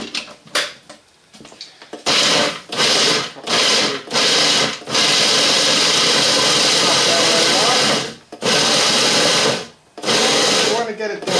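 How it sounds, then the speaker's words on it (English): Food processor grinding walnuts and sesame seeds, loud whirring bursts of the motor, several short pulses followed by longer continuous runs, close up, with a few brief gaps. "Put in the food processor here."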